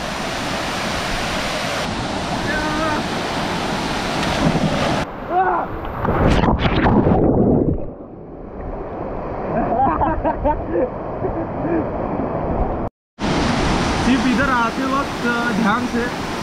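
Rushing water at a hidden waterfall in Roha, a loud, dense, steady roar throughout, briefly dropping and muffled partway through before surging back, with voices talking faintly beneath.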